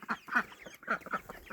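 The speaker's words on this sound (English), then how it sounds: "And our ducks are fussing." Ducks kept with chickens in a hoop house fuss with a string of short, nasal quacks in uneven bursts, close by and fairly quiet.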